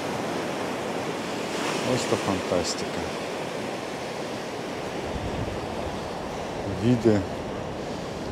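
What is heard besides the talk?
Black Sea waves on the shore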